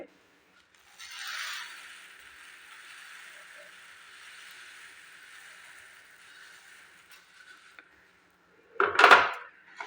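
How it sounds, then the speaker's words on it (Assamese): Fried puffed rice tipped into a pan of jaggery gives a steady dry rustle that lasts several seconds, then a sharp metallic clink near the end, with no talking. "এতিয়া মই ইয়াতে ভাজি থৈ দিয়া মুড়িখিনি দি দিম"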